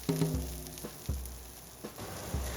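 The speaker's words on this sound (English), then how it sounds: "lay each Brussels sprout flat side down so that it fries in the oil" Brussels sprouts fry flat side down in bacon oil in a cast iron pan, giving a steady crackling sizzle with several soft knocks and taps as they are pressed and placed.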